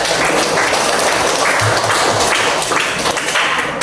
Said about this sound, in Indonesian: Beri tepuk tangan untuk Alma